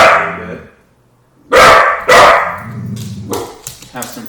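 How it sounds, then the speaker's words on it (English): Several dogs barking loudly nearby, two sharp barks followed by a series of quicker, softer yips and barks, after a quieter start with faint background sound. "Have some ferocious dogs here."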